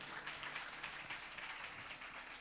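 A congregation at a church youth camp service claps together, a faint, distant wash of steady applause with no speech over it.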